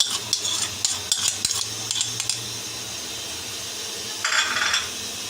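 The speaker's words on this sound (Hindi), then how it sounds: "अब इसको हम थोड़ा भूनते हैं" Mashed tomatoes and green chillies fry loudly in a pan for aloo gosht. Bursts of sizzle come with a spoon scraping and clinking at the start, then a steady hiss, and a brighter burst of sizzle rises near the end.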